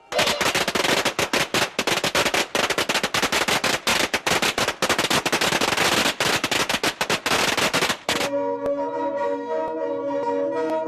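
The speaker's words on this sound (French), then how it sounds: "les instituteurs font éclater des pétards" Firecrackers set off by teachers at a Miao New Year festival in a village, crackling in a rapid, dense string of loud bangs for about eight seconds. Ringing, bell-like tones follow the bangs.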